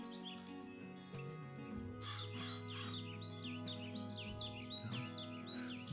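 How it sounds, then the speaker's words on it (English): Harsh, repeated blue jay calls ring out at a moderate distance over a steady low hum, several squawks in a loose rhythm. "There in the distance is a blue jay."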